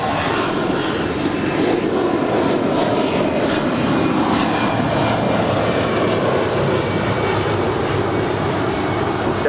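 An airliner taking off from runway 25 right at LAX, its engines producing a steady, loud broadband roar that holds through the whole stretch without a break.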